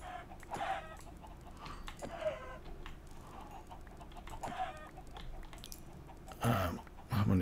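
Chickens cluck in a Minecraft mob farm in a modded All the Mods 4 game, with short clucks scattered across a steady game background and a louder burst near the end.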